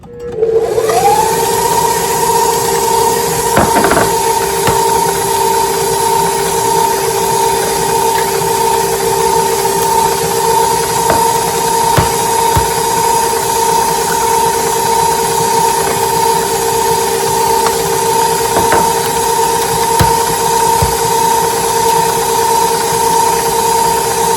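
An electric mixer beating eggs, added one at a time, into cake batter whirs steadily, quickly rising to a constant high motor tone that runs unbroken for nearly half a minute, with faint clicks and knocks against the bowl.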